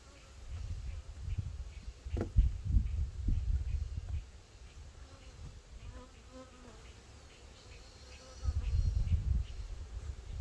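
Honey bees buzz close by at a hive during honey super removal, in swelling bursts, fading quieter in the middle before a loud buzzing rises again near the end.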